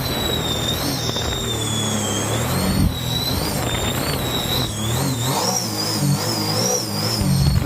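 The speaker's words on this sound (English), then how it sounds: "this being a supercharged engine with a gear-driven supercharger, the whine with an open filter is insane." A 300 hp supercharged mini jet-boat engine with a gear-driven supercharger and open air filter roars on the water, its piercing supercharger whine rising and falling with the throttle. It is loud and continuous, with no talking.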